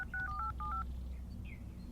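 A cordless phone is dialed, giving a quick run of about six touch-tone beeps in close succession over a low background hum, with no speech.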